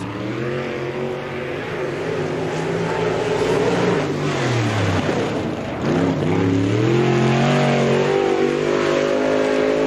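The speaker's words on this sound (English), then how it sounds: "our next qualifier out in car number 5" A race car on a 1996 Spoon River Speedway qualifying lap roars loud and close, its engine note rising and falling as it passes through corners, with steady accelerating whine and a brief dip before building again.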